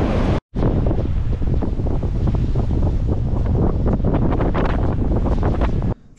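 Big sea waves surge and crash on the Montenegro coast near Budva, with heavy wind buffeting the microphone in a loud, continuous roar and a brief dropout near the start.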